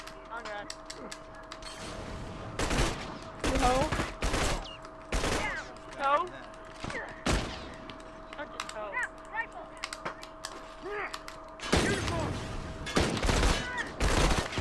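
Bursts of gunfire and mechanical clacks in The Last of Us multiplayer, several separate volleys at moderate level with pauses between, under a player talking and a steady hum.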